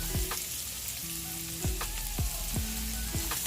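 Garlic fries in oil for a Filipino chicken dish, a steady close sizzle broken by several sharp clinks and scrapes of a utensil against the pan.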